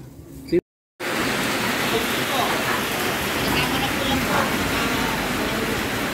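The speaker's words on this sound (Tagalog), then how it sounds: "inabot kami ng ulan dito sa Mabitak" Steady rain pours down in a dense, even hiss after a brief moment of quiet, continuous and fairly loud, in Mabitac, Laguna.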